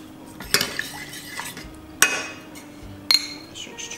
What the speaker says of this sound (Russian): Разбавляю здесь кофе растворимый.